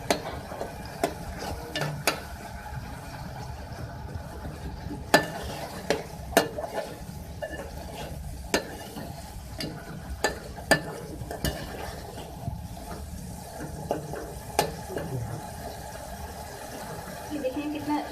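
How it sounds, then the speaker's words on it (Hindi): Tomatoes softening in a pan are stirred and fried, with a low steady sizzle under repeated scrapes and clinks of a spoon against the pan, while someone talks over the cooking. "टमाटर को भी सॉफ्ट करना है अच्छे से, इसको आपने भूनना है।"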